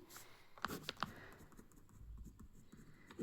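Chalk or marker scratches and taps on a board in short strokes, quiet and close, with a few sharp clicks early and soft rubbing after.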